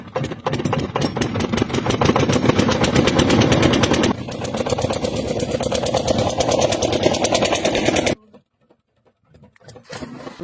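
A boat engine on a river crossing thrums loud and close with a rapid, pulsing beat, shifting tone midway, then cuts off abruptly, leaving near silence with faint scattered noises.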